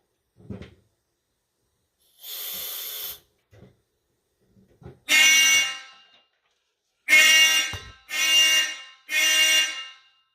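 Vintage Simplex fire alarm sounding in four harsh buzzing bursts of about a second each during a detector test, the first one isolated and the last three close together, with faint clicks and handling noises between them and no talk.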